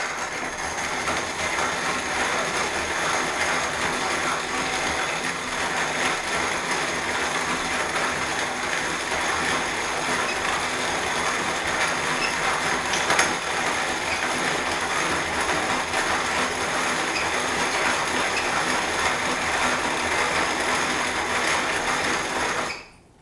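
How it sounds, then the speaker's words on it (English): A hand-cranked Corona grain mill crushing brewing grain, a continuous gritty grinding and rattling heard close and steady for the whole stretch before stopping abruptly. "I just use a Corona grain mill. I just do the hand crank."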